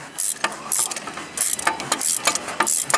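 Irwin sliding channel-lock pliers tighten a bolt on an 1884 Wheel Horse work horse, giving repeated short metallic clicks and scrapes in an uneven rhythm, close and fairly clear, with no talking.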